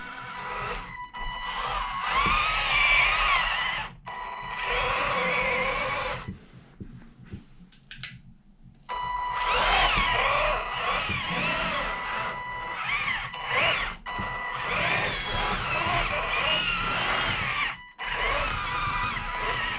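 Headless Horseman motor in a custom RC Ripsaw tank whining as the throttle rises, a high electric drone in bursts separated by short pauses, close and fairly loud.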